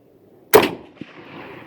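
A single loud, close rifle shot from a Mauser 1891 Argentine in 7.65x53, fired outdoors at a steel groundhog target 125 yards away, with a faint distant ping of impact about half a second later.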